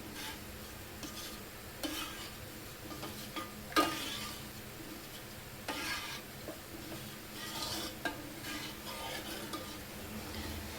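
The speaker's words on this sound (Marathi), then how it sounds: "गुळवणीला आपल्याला उकळी येईपर्यंत सारखं ढवळत राहायचं आहे, जेणेकरून त्याच्यामध्ये गुठळ्या होणार नाही." Jaggery drink (gulvani) being stirred in a pot to break up lumps, with soft repeated scraping strokes and faint sizzling, several louder spoon knocks against the pan, no talking.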